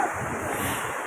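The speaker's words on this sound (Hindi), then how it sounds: "वहाँ ये पानी बह रहा है" Flowing water at Mahodand Lake in Kalam Valley, Swat, Pakistan: a dense, steady rushing wash close by, mixed with breezy wind noise across the microphone.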